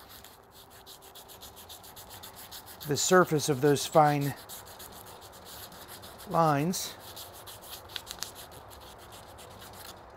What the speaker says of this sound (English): And all I'm doing now is sanding